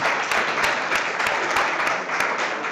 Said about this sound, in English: Give a big round of applause to Jeff Gigante